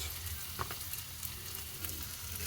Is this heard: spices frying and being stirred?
yes